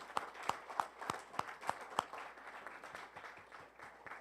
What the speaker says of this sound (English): I want you to give your parents a round of applause